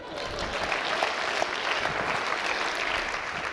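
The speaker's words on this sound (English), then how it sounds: "Let's give her a round of applause." An audience at a talk applauds a woman after an iced-coffee A/B test question. The clapping is steady and close and lasts the whole few seconds without letting up.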